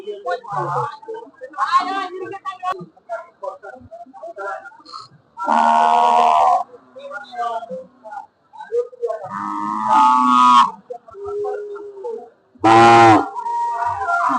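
Cattle at a rural livestock market give several loud, drawn-out moos, near and distinct, with people bargaining over prices in between and around the calls.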